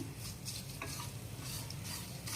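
Masala and poppy seeds roast in a pan as a soft, continuous sizzle, with faint scraping strokes of stirring coming through at intervals.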